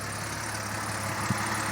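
A 1979 European BMW 630CS five-speed coupe idles after a cold start, its engine giving a steady, low, even rumble at close range with no voices.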